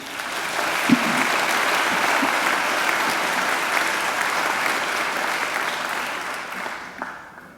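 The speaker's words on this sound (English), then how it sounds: "I think John deserves another great round of applause." Sustained audience applause fills a university graduation ceremony hall, steady and dense throughout before tapering off at the end, with no talking over it.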